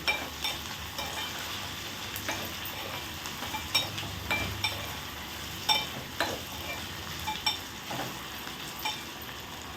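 Brinjal, potato and tomato pieces fry in a pan with a continuous soft sizzle, broken by recurring clinks and scrapes of a utensil stirring; low talk runs faintly underneath.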